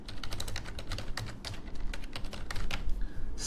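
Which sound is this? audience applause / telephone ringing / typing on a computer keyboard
typing on a computer keyboard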